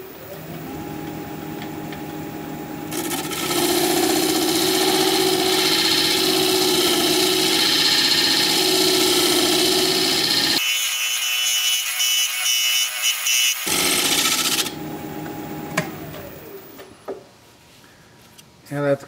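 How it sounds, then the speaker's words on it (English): A wood lathe spins a pedestal bowl while a half-inch bowl gouge makes a shear scrape, giving a loud continuous whirring, rasping cut that breaks off mid-way, resumes, then winds down as the lathe stops. "Half inch bowl gouge, just kind of doing a shear scrape"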